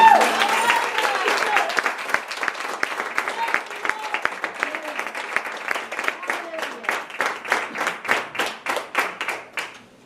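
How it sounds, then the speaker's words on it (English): Church congregation applauding after singing, a loud burst of clapping that settles into a rhythmic unison clap and fades out. "Give Jesus a big cheer"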